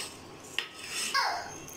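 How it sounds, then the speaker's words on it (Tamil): A spoon stirring coconut paste into mutton curry in a pot, giving a faint metallic scrape and a couple of soft clinks against the pot, close and brief, with no talk. "சேர்த்துட்டு 1 தடவை நல்லா கலந்து விட்டுக்கிறேன்"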